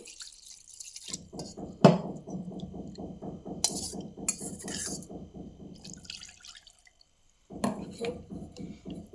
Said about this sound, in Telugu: ఇవి ఇలా ములిగే వరకు నీళ్ళు పోసుకోవాలి.